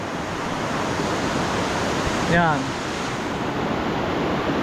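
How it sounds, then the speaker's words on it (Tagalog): Strong floodwater rushing down from the Sierra Madre mountains past a wrecked bridge, a loud, constant roar of water close by, with a brief spoken word partway through. "Ang lakas pa pati ng tubig."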